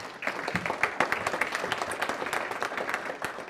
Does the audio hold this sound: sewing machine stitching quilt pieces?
no